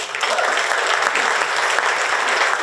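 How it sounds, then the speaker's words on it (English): Audience applause at a business awards event, steady and dense clapping from a full room, loud and continuous throughout with no talk over it. "I think we deserve a round of applause."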